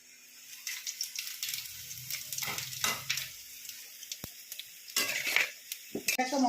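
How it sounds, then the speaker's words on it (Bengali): Whole garam masala and bay leaves sizzle in hot oil for a Bengali muri ghonto, crackling and spitting in bursts while a spoon stirs and clinks against the pan. "গরম মশলা ফোড়ন দিয়ে দেবো"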